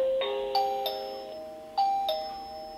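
A Marmitek smart doorbell chimes twice in clear two-tone ding-dong patterns, bright and ringing, with a short pause between them and no voices.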